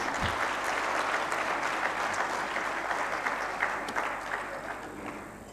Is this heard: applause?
yes